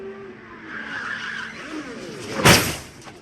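An IndyCar at Texas skids with squealing tires amid engine noise, then slams hard into the wall with a single loud, broadband impact near the end of the clip.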